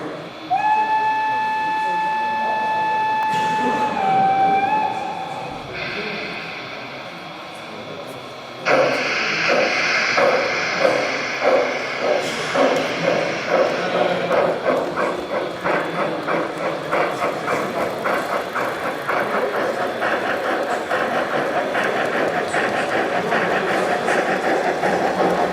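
Two Märklin S 2/6 model steam locomotives start off on the track after a long whistle tone, then run with a steady rhythmic chuffing that grows louder and stays close, with voices talking over it.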